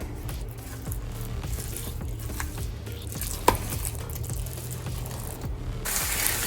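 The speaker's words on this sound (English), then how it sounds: "what I've got here cooking away is some garlic and a dash of oil and onion" Garlic and onion sauté in a dash of oil in a pan, giving a steady, soft sizzle close by with an occasional sharp tick of stirring, no voices over it.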